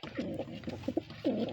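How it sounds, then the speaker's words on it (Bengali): Lal Sundory and Biskit Gorra pigeons coo close by in a few short throaty bursts, soft and rounded, with brief pauses between calls and no talking. "খুব একটা ভালো লাগার কবুতর"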